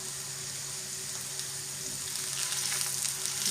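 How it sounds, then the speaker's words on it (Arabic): Onion frying in a pan for a Turkish-style dish gives a soft, continuous sizzle and crackle at low volume, swelling slightly toward the end with no talking. "البصله ديالنا راه كتشحر"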